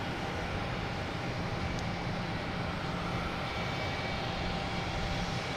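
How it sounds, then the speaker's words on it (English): A JetBlue Airbus A321 arriving from Aruba at Boston Logan Airport gives a steady, broad jet engine roar at moderate distance that holds without a break. "We have JetBlue coming in from Aruba."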